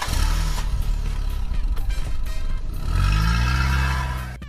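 Car engine after a repair with its wires connected directly, cranking with clattering and then catching and revving up, loud and close, with a rising and falling engine pitch and no talking.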